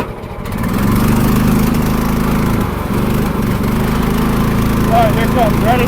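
A tracked dumper's engine runs loud and steady up close, its droning hum rising slightly as it pulls in third gear, with a voice speaking briefly over it.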